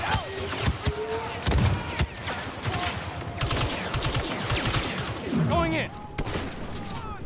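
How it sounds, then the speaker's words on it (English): Bursts of A280 blaster fire ring out in Star Wars Battlefront 2 amid a dense, loud battlefield mix of other weapon shots and effects. "If you time your burst slightly slower, you'll be able to fire a lot more."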